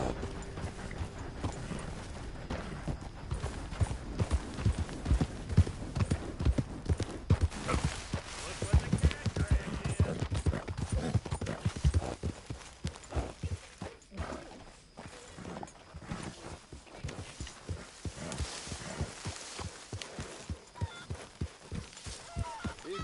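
Horse hooves clip-clop in the Red Dead video game, a steady rhythmic trot on hard ground, loud and close, with a few crunchy impacts and some voices.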